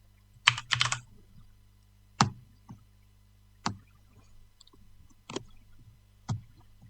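Computer keyboard keys clacking: an opening flurry of rapid strokes, then single isolated taps spaced about a second apart over a low steady hum, fairly close and alone with no talk.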